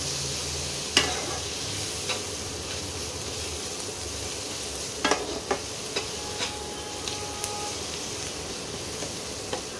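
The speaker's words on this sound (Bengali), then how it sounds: "এবারে ভালো করে কষাবো, কষিয়ে তারপরে তোমাদের দেখাচ্ছি।" Spices and Kashmiri chili powder stir-frying in oil as the base for crab curry, giving a soft steady sizzle with a few sharp spoon scrapes and taps scattered through it.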